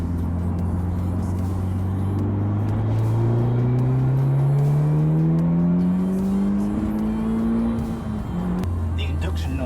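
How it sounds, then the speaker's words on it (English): A Mitsubishi Evo 9 engine accelerates hard from inside the car, its induction noise from the air filter rising in a steady climbing drone before dropping at a gear change near the end. "The induction noise comes from the air filter, which is basically in front of the glove box, so it sounds like all the suck is coming from your glove box."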